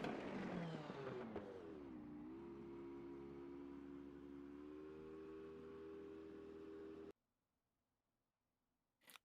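An LMP2 prototype race car engine in the iRacing sim drones steadily with a rising then level whine for about seven seconds, then cuts to near silence before a brief burst at the end.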